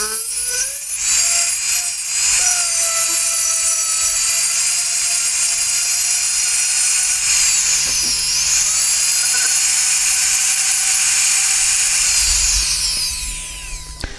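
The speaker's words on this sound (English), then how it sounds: "I'm going to be using my rotary tool. I use a Fredome flex shaft." A high-pitched Foredom flex shaft rotary tool whines steadily, its pitch dipping briefly as it grinds a nub off a wooden bowl, then winding down near the end.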